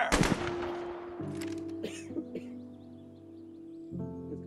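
Gunfire in the video game A Way Out: a short burst of sharp shots at the start, then a few fainter cracks and impacts over a sustained musical drone.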